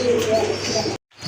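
Indian Bombay pigeons, a white pair of large crested birds, coo in low repeated tones close by, alongside a person talking, before a brief drop to silence near the end.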